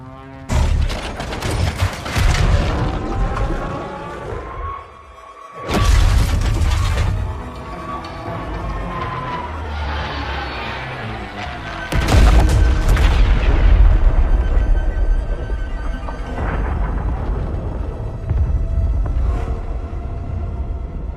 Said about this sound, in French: Il a explosé!